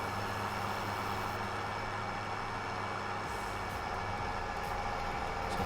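A tractor engine idling in Farming Simulator 19, a steady, continuous diesel rumble with a constant droning tone, close and unchanging throughout.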